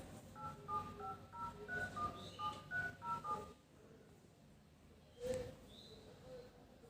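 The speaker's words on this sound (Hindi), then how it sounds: "हम मिलाते हैं इनके मित्र को कॉल" A quick run of about a dozen telephone keypad tones beeps in rhythm as a call is dialed, followed by quiet and a single short electronic chirp.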